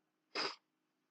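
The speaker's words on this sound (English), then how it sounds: "I need to sneeze." One short, sharp sneeze bursts out against near silence, lasting about a quarter of a second.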